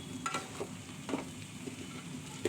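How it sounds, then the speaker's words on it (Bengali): Rice frying with spices in a pan for bhuna khichuri, a soft steady sizzle broken by light scraping clicks as it is stirred. It is quiet and close, with no voices. "এখন একটু ভাজা ভাজা করবো"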